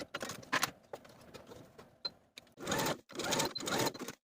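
A sewing machine backstitches a 5/8 inch seam on a romper in short bursts of close, rapid stitching, separated by brief pauses and small clicks, with no talking.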